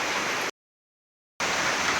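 Heavy rain in a storm pours as a dense, steady hiss with no breaks in texture. It cuts to complete silence for almost a second partway through, then resumes just as loud, with no voices.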